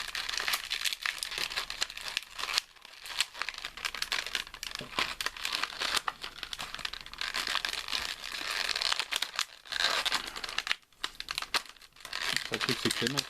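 Plastic packaging of a Myth Cloth EX Pegasus Seiya figure being opened, with continuous crinkling and tearing close up, sharp crackles throughout and a few brief pauses.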